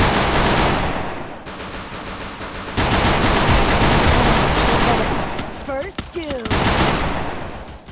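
Heavy, rapid bursts of gunfire, like machine-gun fire, run loud and nearly continuous with only brief lulls, and a few sharper shots cut through near the end.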